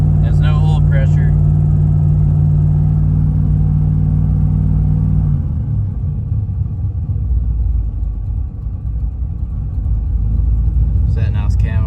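A carbureted car engine runs while warming up with no oil pressure, a loud steady idle with a strong low drone that drops and roughens midway into a deeper rumble, while people talk briefly at the start and end.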